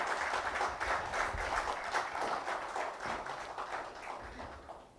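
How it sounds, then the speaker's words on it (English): Crowd applause at a panel event with a former ambassador and military commentators, a dense and steady patter of many hands clapping that fades gradually toward the end, with no voices heard. "So please give him a big round of applause."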